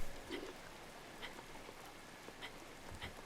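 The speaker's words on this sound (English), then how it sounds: "I forgot this whole place is raining for a very specific reason." Rain falling in the video game The Legend of Zelda: Breath of the Wild, a quiet steady patter of drops on surfaces with a few slightly louder splashes, with no voices over it.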